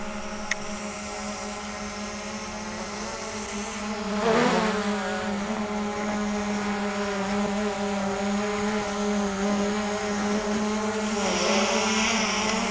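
A Hubsan Zino 2+ drone in flight, its rotors giving a steady high whine with a droning buzz that swells slightly partway through, continuous and fairly close, with no talk.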